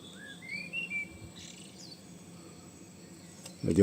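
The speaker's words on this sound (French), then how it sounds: "Il y a des rossignols là quoi." Nightingales sing in brief, thin chirps and whistles on a street at night, faint and distant over a low background rumble, with no talk.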